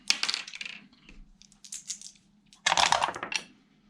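Dice for an American Revolution board wargame clatter and rattle onto a table in two separate throws, each a short burst of sharp tumbling clicks, close and fairly loud with no speech over them.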